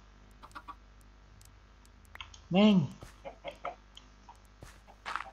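Chickens in the video game Minecraft let out one loud, sharp cluck or squawk midway, close and brief, with someone talking before and after it.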